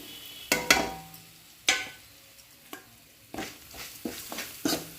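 Ground pepper, cumin, coriander and garlic paste being sautéed in a pan for neem-flower rasam, with soft sizzling under scattered sharp clinks and scrapes of a spoon stirring against the pan.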